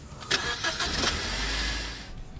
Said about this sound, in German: Zack, Motor geht an,